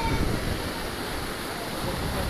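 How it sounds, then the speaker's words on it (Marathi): Water swirls round and round in a deep hole that feeds into a river, a continuous rushing churn and broad steady roar nearby with no distinct pauses or voices. "तो बघा पाणी कसा गोल फिरत आहे."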